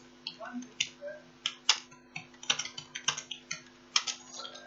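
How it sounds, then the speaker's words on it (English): Someone types a chat message on a computer keyboard, producing irregular bursts of crisp, close key clicks with brief pauses between words, and faint talk underneath. "let's type a message, and we can say hello my brother"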